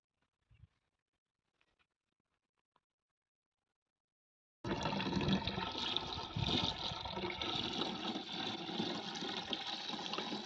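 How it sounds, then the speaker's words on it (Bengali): Pesticide being stirred into water in a 15-litre drum: after a few faint clicks and taps, a loud continuous splashing and sloshing of liquid starts and keeps going steadily, close by and with no talking. "ভালো করে জলের মধ্যে গুলিয়ে নেবেন"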